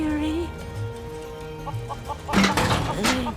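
Chickens in the video game Final Fantasy VII Rebirth cluck and bawk in short repeated bursts, set against steady game ambience and music, with a louder flurry of clucking near the end.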